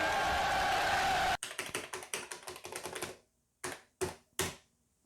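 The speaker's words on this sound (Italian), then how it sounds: "quando muovo la tastiera sento i toc toc" Keyboard taps on a Philips VG 8000 MSX home computer, heard through a TV's composite audio: after a burst of hiss, a quick run of crisp clicks, then three separate louder taps with pauses between.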